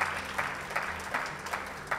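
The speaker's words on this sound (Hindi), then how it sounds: "तालियां बजाओ यार।" Studio audience applause at a televised birthday tribute to PM Modi, a steady wash of clapping with periodic louder swells, fairly close and moderately loud, with no voices over it.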